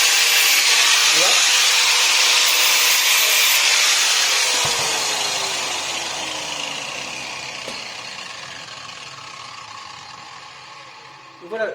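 A single light filing pass knocks the burrs off the back of a freshly sharpened lawn mower blade, giving a broad, steady rasping hiss that slowly fades, close by, with a brief scrape at the end.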